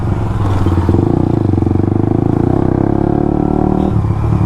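A Suzuki GSX-R motorcycle engine revs loud and close, its steady throbbing exhaust note holding for several seconds before dipping slightly near the end.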